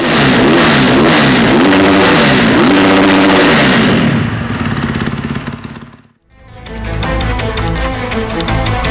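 A 2022 Husqvarna FS 450 motorcycle engine revs hard and loud, rising in stepped bursts, then drops away into a brief near-silence before settling back to a rough, steady idle up close.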